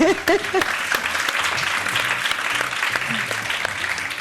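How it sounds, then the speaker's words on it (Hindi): A studio audience claps steadily during a Ramadan iftar TV broadcast, applause filling the room at close range and holding at an even level throughout. "अब मेरे लिए ताली बजा दें"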